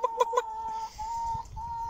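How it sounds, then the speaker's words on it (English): Chickens cluck nearby, a quick burst of three short clucks followed by longer drawn-out clucking notes, with faint rustling underneath. "I can hear them clucking away."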